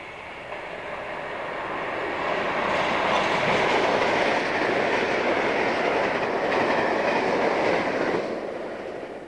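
A British Rail passenger train, top and tailed with a locomotive at the rear, rumbles past on the line at steady volume, a broad wash of wheel and engine noise building and then holding throughout with no talk.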